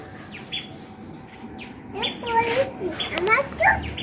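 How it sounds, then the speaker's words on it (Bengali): Several birds chirp and tweet nearby, with short bright calls growing busier toward the end, while children's voices play in the background. "পাখি ডাকছে"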